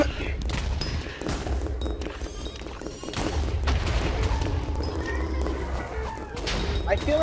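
Guns fire in Hypixel Zombies, a Minecraft video game, in dense overlapping volleys and booming cracks that run almost continuously under a busy game soundscape.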